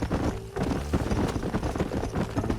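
Horse hooves clip-clop in Red Dead Redemption, a close, irregular run of hoof strikes with no speech over them.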